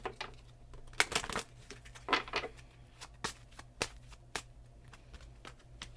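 Tarot cards are shuffled by hand close to the microphone, soft papery riffles and quick flicks in uneven bursts, quiet against a low hum.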